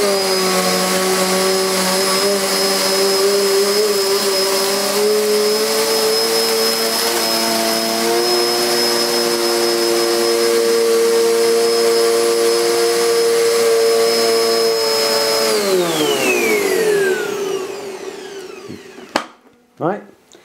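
A Hoover Smart Pets SM1901 bagless vacuum cleaner roars steadily at close range as it runs forward and back over carpet, then powers off and its whine drops away, followed by a few clunks.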